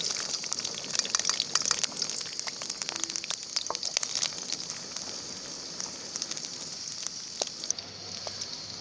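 Onions sizzling and frying in hot oil in a kadai, a steady dense crackle with scattered sharp pops, close and continuous throughout with no one talking.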